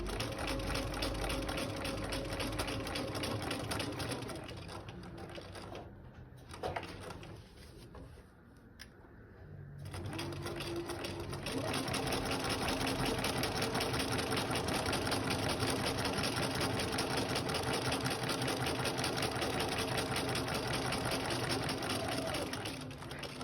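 A sewing machine whirs steadily while stay stitching a wedding gown panel, running in two long, even bursts split by a brief pause, close and continuous with no talking.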